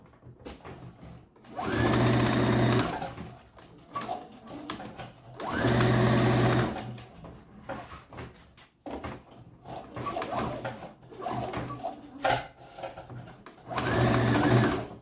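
Sewing machine stitching a gown, running in three loud sustained bursts of rapid needle chatter separated by pauses filled with softer handling noise and fabric movement.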